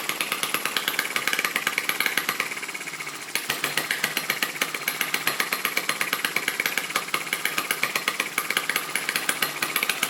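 A Lister D model stationary engine runs fast and hard with a dense, rapid, even firing rhythm. The pulses break briefly near the middle, then continue steady and loud.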